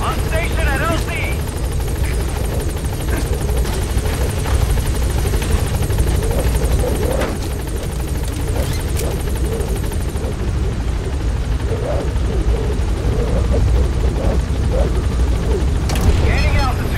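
Support helicopter B-Quad from Metal Gear Solid V descending to a landing zone, a steady loud rotor roar with dense low thump filling the whole stretch, with a voice speaking over it.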